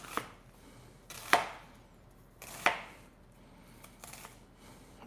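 A knife chops through onions for a steak and onions meal, a few sharp, separate thuds on the cutting board spaced about a second apart, close and clear with no talking.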